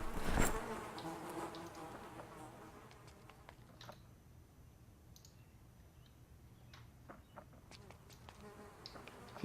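Flies buzz faintly around corpses in the Project Zomboid video game, a thin droning hum under scattered soft clicks after a brief louder burst at the start.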